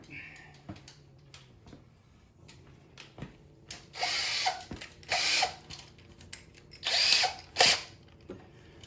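A power drill drills a small pilot hole in an Arctic Cat snowmobile to fit ice scratchers, whirring in several short bursts, close by, with gaps and small clicks between runs and some quiet talk underneath.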